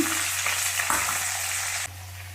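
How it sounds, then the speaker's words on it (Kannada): Carrots, field beans and onions fry in hot oil for Karnataka-style avarekalu upma, making a steady, close sizzle that softens slightly near the end. "ಈಗ ಎಣ್ಣೆ ಒಳಗೆ ಸ್ವಲ್ಪ ಫ್ರೈ ಆದರೆ ಚೆನ್ನಾಗಿರುತ್ತೆ"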